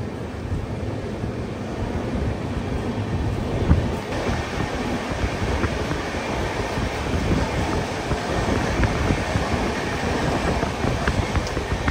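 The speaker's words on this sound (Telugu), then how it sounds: "తెనాలిలో జంక్షన్ నుంచి అయితే మన ట్రైన్ బయలుదేరిపోయింది" The Vikrama Simhapuri Amaravati Intercity Express pulling out of Tenali Junction, heard from on board as a steady broadband rumble of wheels and rushing wind that runs unbroken and fairly loud throughout.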